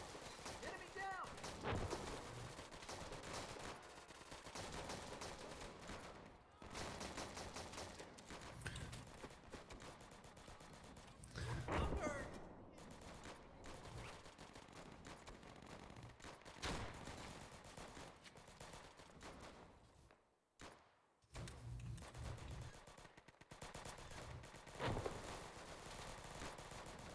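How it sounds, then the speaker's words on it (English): Gunfire in the video game Easy Red 2, a World War II style battle on a custom map: continuous bursts of rifle and machine-gun fire, near and far, with explosions, dense and loud throughout, and someone talking over it. "I'm under fire!"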